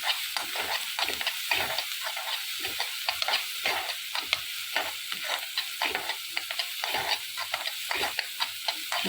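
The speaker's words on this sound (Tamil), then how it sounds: "இஞ்சி பூண்டு போட்டு நல்லா வதக்கலாம்" Ginger and garlic sautéing in a pan, with loud close sizzling and repeated scraping stirs in a quick irregular rhythm throughout.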